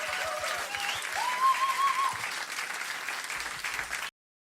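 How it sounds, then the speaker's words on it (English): An audience applauds a band at a live country music concert, with sustained, dense clapping and a faint whistle rising above it for about four seconds before it cuts off. "Applaudiert bitte auch für die Band"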